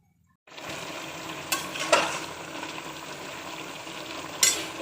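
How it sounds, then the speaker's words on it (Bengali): Beef with whole cut spices frying and being stirred in a pot on the stove, a steady broad sizzle with a few sharp scrapes and clinks of the spoon against the pan, close and alone. "এটা আমি চুলার উপর এই যে শুধু কষায় কষায় এটা এখন আমাকে রান্না করতে হবে।"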